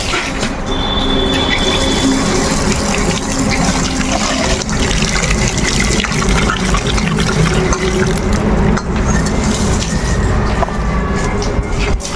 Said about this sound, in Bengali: আমার মাছ ও কাঁকড়া কাটা হয়ে গেছে, এখন আমি ভালো করে ধুয়ে দেবো।